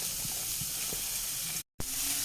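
Chilli powder and turmeric powder fry in hot oil in a pan while being stirred, giving a steady close sizzle with a few soft spoon scrapes; the sound briefly cuts out near the end.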